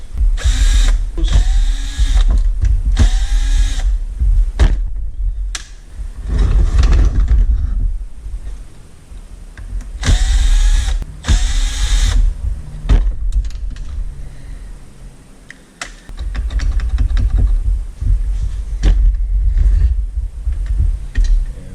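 A power drill removes screws from a shredder being scrapped, with several loud, close whirring bursts of a few seconds each, separated by quieter pauses and mechanical clatter.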